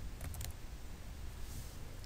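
A few quick clicks of computer keyboard keys tap near the start, faint over steady background hiss, as a link is copied and pasted.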